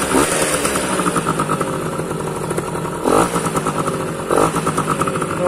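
A Yamaha motorcycle engine runs loud and close with a rattling, buzzy idle, punctuated by two short throttle blips.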